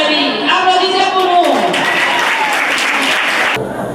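Audience applause for the CEG Djalamari reading club, dense steady clapping throughout with a brief tonal sound near the start, under a loud speaking voice, fading at the end.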